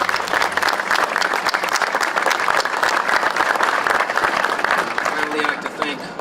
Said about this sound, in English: I ask you to give yourselves a round of applause